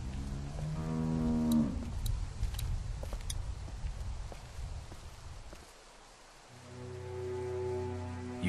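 Cow mooing in The Walking Dead video game, two long low moos, one near the start and one near the end, with faint footsteps and clicks between them.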